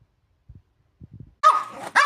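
Pet dogs bark in a few quick bursts close by, rising loud near the end, after a stretch of faint soft sounds.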